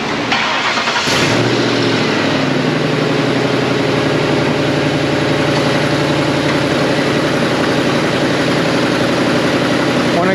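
A pickup truck engine cranks and catches about a second in, then settles into a loud, steady idle that continues to the end.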